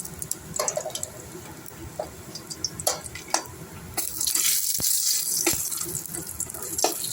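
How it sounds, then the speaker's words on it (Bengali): Lentil dumplings (bori) dropped into hot oil in a wok, first a few scattered clinks and stirs, then a loud, dense sizzle that swells and holds. "এবার আমি কড়াইতে কটা বড়ি ভেজে নিচ্ছি।"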